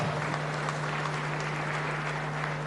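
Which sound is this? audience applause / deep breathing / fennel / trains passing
audience applause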